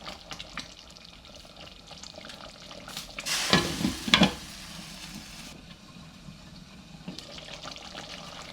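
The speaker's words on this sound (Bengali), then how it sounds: "ঢাকনাটা তুলে আমি একটু নেড়ে দিচ্ছি।" A spoon stirs thick orange masala chicken gravy in a pot once the lid comes off, with a soft sizzle underneath and a couple of louder scraping, bubbling bursts in the middle.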